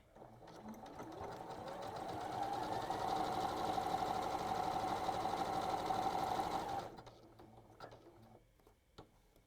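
A sewing machine stitches appliqué on fabric with dark thread, giving a close, steady buzzing whir for about six and a half seconds before stopping. A few faint clicks and handling sounds follow in the quiet.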